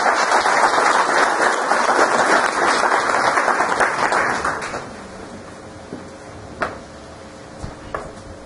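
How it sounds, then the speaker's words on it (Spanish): Audience applause welcoming the medical director of a family health clinic, a dense, steady round of clapping that fills the room for about four seconds, then fades into a quiet room with a few scattered knocks. "Lo recibimos con un aplauso."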